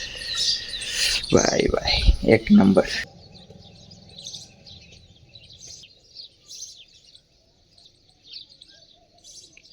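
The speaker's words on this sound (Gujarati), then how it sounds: "મસ્ત ચકલાનો અવાજ આવતો હોય અને આ વ્યૂ" Sparrows chirp outdoors in the morning with faint, scattered tweets that continue steadily in the distance after a brief burst of nearby talk.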